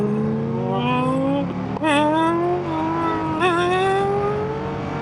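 A Ducati Panigale V2 motorcycle engine revving hard during a wheelie, a loud rising and falling engine whine held close throughout, with sharp throttle blips midway.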